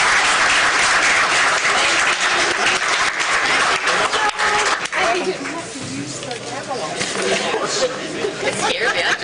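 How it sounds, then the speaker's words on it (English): An audience at a Glasgow/Barren County political forum breaks into loud applause, joined by chatter and voices, and the clapping thins out partway through as talk continues. "Let's give a round of applause."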